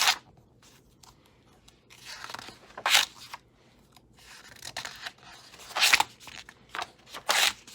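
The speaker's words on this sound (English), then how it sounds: "apologize for the noise as each page goes over on the ring binding." Paper pages flip over a ring binding in several separate bursts of crinkling and rustling, close by, with quiet gaps between turns.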